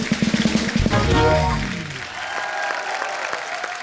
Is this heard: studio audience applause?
yes